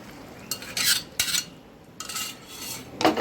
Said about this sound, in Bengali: আরেকবার খুব ভালো মতো করে মিক্স করে নিচ্ছি।